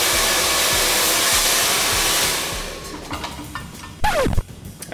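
A hair dryer fitted with a nozzle roars steadily and loudly while blow drying a fringe of wavy hair straight, then drops in level and shifts tone as the airflow is redirected, with brief whooshes near the end.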